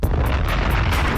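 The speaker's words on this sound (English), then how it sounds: "First bomb." A loud, rumbling bomb explosion sound effect with a sustained roar and repeated booming pulses, filling the whole short stretch without any voices.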